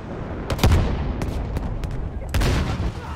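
A C4 charge destroys a tank in a video game, heard as a string of sharp blasts and booms over a rumbling battle, with voices talking faintly underneath.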